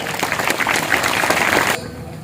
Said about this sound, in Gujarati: જોરદાર તાળીઓ પાડીને એમનું અભિવાદન કરો